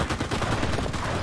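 Rapid rifle fire from the game Enlisted, Battle of Berlin, with close, dense overlapping shots cracking in a continuous burst over battlefield noise, no speech.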